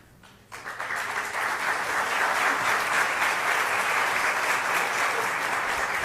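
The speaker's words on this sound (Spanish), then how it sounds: "pero se merece un aplauso, Víctor." A seminar audience breaks into applause that swells quickly and continues steadily, a dense wash of clapping from many hands.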